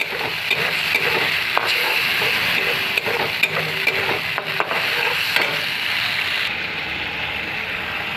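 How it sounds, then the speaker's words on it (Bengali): Tomato, ginger and garlic spice paste frying with onions in a pan, a loud continuous sizzle broken by repeated scraping stirs of a spatula, with no voices. "এই মশলাটা একটু ভাজা হবে।"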